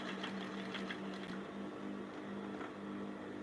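A sewing machine stitches bias-cut fabric for a button blouse, giving a steady close mechanical whir with rapid needle ticking, heard alone and fairly faint.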